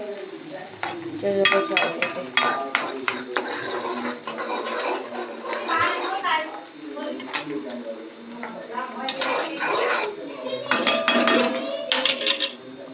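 Pasta ingredients fry and sizzle in a pan while a utensil stirs and scrapes against the metal in frequent clattering bursts, with someone talking intermittently over the cooking.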